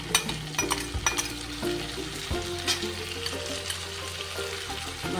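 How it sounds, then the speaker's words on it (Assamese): Small fish fry in oil with cumin, a gentle steady sizzle broken by clinks and scrapes of a utensil stirring the pan, heard close up. "সেই তাতে মই মাছখিনি দি দিম।"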